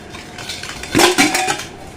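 A metal pressure cooker lid clanks and scrapes as it is opened and checked in a home kitchen, a short burst of close metallic clinks.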